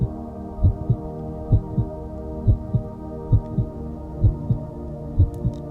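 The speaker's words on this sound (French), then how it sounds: "Une douce pulsation émane du bois, comme un battement de cœur." A heartbeat sound effect thumps in a slow, steady double-beat rhythm, soft and low over a constant warm hum, with no voices.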